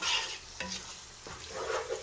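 Onions frying in plenty of oil in a non-stick pot give a steady close sizzle while a utensil stirs and scrapes through them, with a few brief knocks against the pot.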